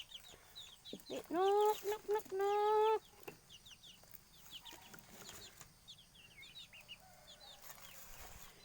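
Chickens clucking as they are called into their pen, with two loud drawn-out calls early on, then scattered softer clucks and a brief rustle of flapping wings against quiet farmyard background.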